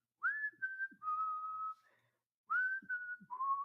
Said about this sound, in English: I hear someone outside whistle